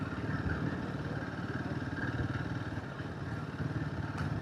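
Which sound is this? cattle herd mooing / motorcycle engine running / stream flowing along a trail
motorcycle engine running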